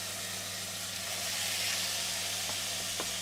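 Food searing in a hot pan gives off a steady, soft sizzle and hiss, with a couple of faint pops near the end and no talk.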